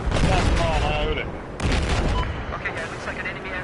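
Gunfire in the video game Battlefield 4, bursts of shots and booming blasts in a dense battle mix, with a voice talking over part of it.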